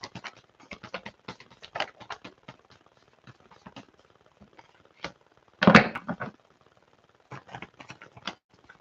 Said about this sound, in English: These cards are getting rough. It's like hard to shuffle them even.